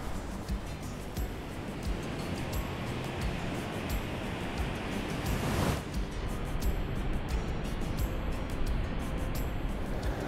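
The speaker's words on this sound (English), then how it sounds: "I hope my microphone is picking up the roar of this waterfall." A waterfall on the Neiden River in Norway roars as a loud, steady broadband rush, close by and continuous, with some wind buffeting the microphone.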